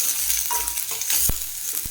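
Onion, curry leaves and green chilli sauté in a pan for fish curry, giving a continuous close hiss of sizzling oil broken by sharp spoon scrapes and taps as the mixture is stirred.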